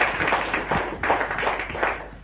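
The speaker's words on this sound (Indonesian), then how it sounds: "Jadi berikan tepuk tangan untuk Anda semua" A small audience at a business meeting gives brief, patchy applause in a couple of short bursts of clapping, moderately close and fairly light, with no talking.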